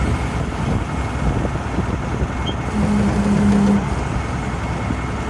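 The engine of a Ford L8000 truck crane labors at a low rumbling idle as the boom struggles to extend, with a brief steady hum rising in the middle, close and fairly loud.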